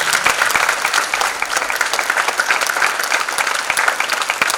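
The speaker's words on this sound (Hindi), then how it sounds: "तालियां बजाइए एक बार इनके लिए।" An audience at a live Lucknow stage show of ghazals, Kathak and narration applauds, dense steady clapping from many hands sustained across the whole stretch.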